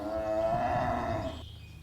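A single cow lets out one loud, drawn-out moo, close and clear, fading off at the end.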